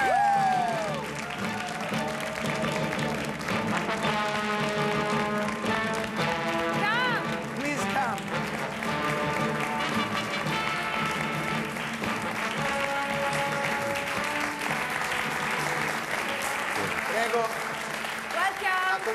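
Studio audience applause welcoming guests on an Italian talk show, a continuous patter of clapping running under music and voices for the whole stretch.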